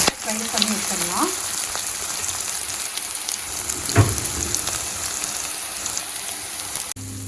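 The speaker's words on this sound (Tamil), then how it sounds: "ஸோ ப்ரெட்டை வந்து இந்த மாதிரி நல்லா ஃப்ரை பண்ணி நம்ம எடுத்துடலாம்." Cubes of bread deep frying in hot oil for a tomato soup make a steady, fairly loud sizzle with crackling bubbles, a brief stir or clatter near the middle, running throughout.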